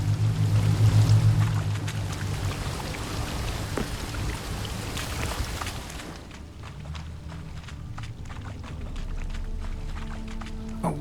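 Rushing water from an upward-flowing waterfall in The Witcher 3, a steady broadband splashing wash like rain or pouring water that runs throughout, with a low hum at the start and a dip partway through.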